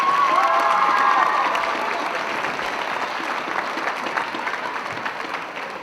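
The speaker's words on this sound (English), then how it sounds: "So a big round of applause for both teams playing tonight." A crowd claps for both teams after the 2022 senior ladies' championship final, with dense, loud applause and some cheering at the start that slowly thins and fades across a few seconds.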